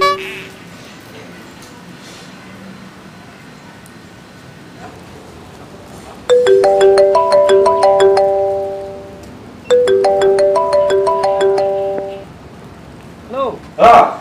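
A phone ringtone plays two loud bursts of repeated electronic melodic tones, each lasting a few seconds, after a quiet stretch with faint background sound. A brief voice is heard at the end.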